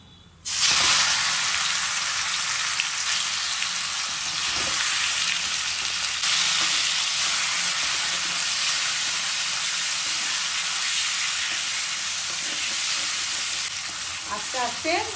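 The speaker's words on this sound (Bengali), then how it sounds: "আস্তে আস্তে 10 মিনিট ভেজে নেবো।" Chicken meat fries in hot oil with a loud, dense, continuous sizzle that starts abruptly and holds steady, with faint stirring near the end.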